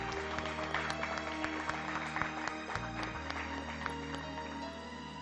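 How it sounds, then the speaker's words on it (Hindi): Applause in a TV serial scene welcoming a guest, dense clapping from a gathered crowd heard at moderate distance, continuing steadily throughout with a faint background hum. "मैं चाहूंगी एक बार फिर जोरदार तालियों से हम"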